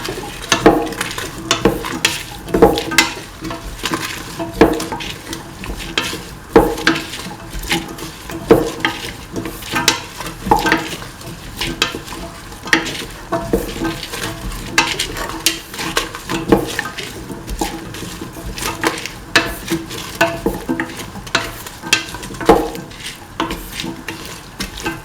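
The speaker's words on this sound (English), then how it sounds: "Now put in the tomato pieces. Keep on sauteing." Tomato pieces sautéing in a pan for snake gourd coconut milk rice, with a steady soft sizzle under repeated scraping and stirring strokes from a spatula, close and continuous throughout.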